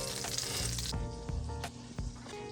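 Butter melting over medium-low heat in a cast iron pan, a steady close sizzle and crackle that softens slightly partway through, with faint stirring clicks and no voices.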